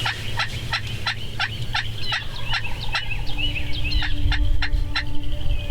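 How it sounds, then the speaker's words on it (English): Wild turkeys gobble repeatedly in quick bursts, loud and fairly close, with several birds calling over one another against faint outdoor background. "We heard the birds gobbling right where we had roosted them the night before"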